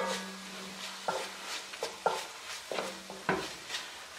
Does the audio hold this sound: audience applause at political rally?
no